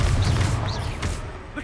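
A Confringo fire spell explodes in Hogwarts Legacy: a heavy low burst opens, then settles into a rumbling, crackling tail under busy game effects.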